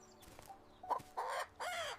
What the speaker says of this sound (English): The rooster was crowing again